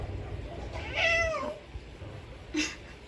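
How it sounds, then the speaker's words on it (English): A pet cat named Max meows outdoors, two separate calls: a longer rising-and-falling meow followed by a short chirp-like one, moderately close over a low, steady background hum. "We've got the cat out here with us."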